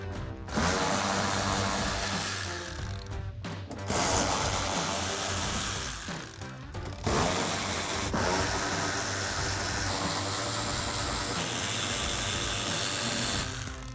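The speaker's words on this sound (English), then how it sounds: "We're going to go all the way around our wheel well and remove these 8mm bolts." A socket wrench ratchets out 8mm fender bolts around the wheel well of a 2009-2018 RAM 1500. Three long, loud, close bursts of dense mechanical clicking are separated by brief pauses.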